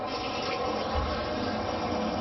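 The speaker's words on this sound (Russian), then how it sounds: "Открываем воду и смотрим." Water runs steadily from a bathtub tap in a bathroom whose tub has been recoated with liquid acrylic, a continuous close rushing hiss with no talk.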